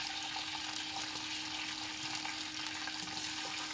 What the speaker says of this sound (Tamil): இதெல்லாமே கலர் சேஞ்ச் ஆகிற வரைக்கும் வறுத்துக்கலாம்